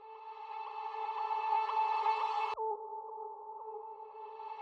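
Small cymatic sound samples sit in an electronic music track, heard as a steady tonal drone with layered harmonics that breaks off sharply midway and continues in a lower, thinner form, with no voices.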